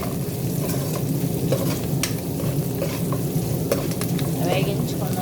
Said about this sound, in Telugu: ఇలా వేసుకొని వేయించుకోండి